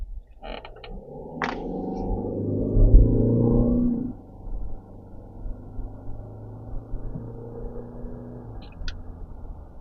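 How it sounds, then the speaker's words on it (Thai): A 2023 Isuzu MU-X 3.0 top-spec 2WD SUV accelerates from 40 to 100 km/h, heard from inside the cabin. A low engine drone swells for about four seconds, then eases into a quieter, steady road hum. "เดี๋ยวตังจะลองอัตราเร่งให้ดูครับ"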